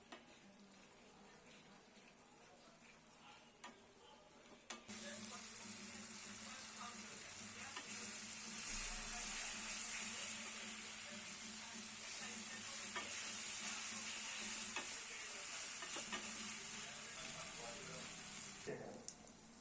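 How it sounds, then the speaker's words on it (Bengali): Spice masala with tomato paste sautéing in oil in a pan for a rohu fish curry, a steady close sizzle with scraping stirs that grows louder after a few seconds and runs on continuously. "টমেটোর পেস্ট দিয়ে আবারও কিছুক্ষণ সময় নিয়ে খুব ভালো করে কিন্তু কষিয়ে নেব"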